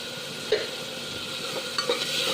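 Chicken curry masala with a little fennel powder frying over a raised flame: a steady soft sizzle with occasional scraping stir strokes and light utensil clinks, close and moderately quiet, no voices.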